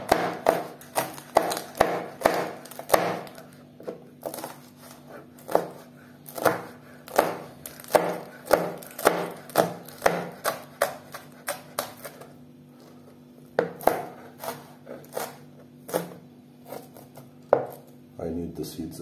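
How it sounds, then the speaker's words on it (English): Chili peppers sliced with a knife on a cutting board, rapid irregular chopping taps in bursts with brief pauses, close and crisp over a faint steady hum. "Now it's time to slice the peppers."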